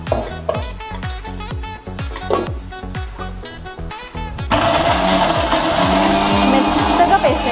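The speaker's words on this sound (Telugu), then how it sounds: "ముందేది మిక్సీ పట్టుకుందాం" Mixer grinder whirring loudly as it blends coconut and sugarcane pieces for juice, starting midway after a stretch of music and running as a steady harsh buzz to the end.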